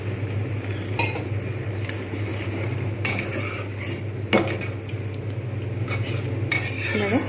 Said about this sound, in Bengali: ভালো করে মিশিয়ে নেব। এতে দিয়ে দেবো আর একটু জল।